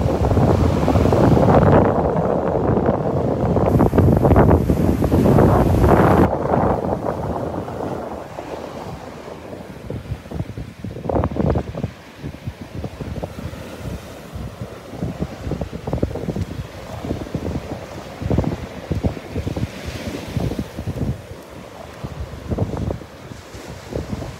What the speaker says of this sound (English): Look at those waves.